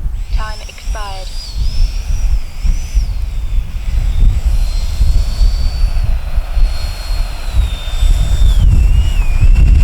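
A Freewing Yak 130 RC model jet flies past with a steady, rising and falling whine of its ducted fan, heard at moderate distance under constant wind rumble on the microphone.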